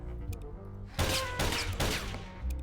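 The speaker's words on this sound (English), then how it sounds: "He wouldn't be able to hear me over the gunfire." Bursts of rapid video game gunfire in Voodoo Detective erupt after a quiet start, coming in several loud, dense volleys with brief gaps between them.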